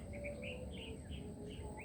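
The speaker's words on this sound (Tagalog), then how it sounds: "Napakadami po dito ng ibon, sobra. Iba't ibang ibon." Several birds of different kinds chirp and tweet in quick, light calls in a forest, over a low hum of outdoor background noise, faint and somewhat distant.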